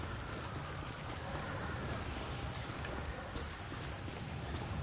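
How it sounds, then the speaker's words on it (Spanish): Rain falling in Los Santos in the video game GTA V Online, a steady, soft hiss of raindrops with a faint low rumble underneath, continuous and fairly quiet throughout with no voices. "aquí está lloviendo aquí en Los Santos"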